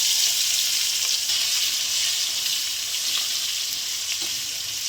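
Onions frying in hot oil with whole cardamom, cinnamon, cloves and cumin for mutton biryani: a steady, close, even sizzle that holds without pause throughout.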